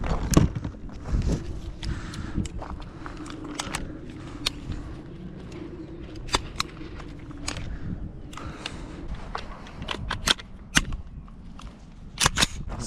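An MK18 rifle fires at an outdoor range in a string of sharp, fairly distant cracks at irregular intervals over a low ambient background.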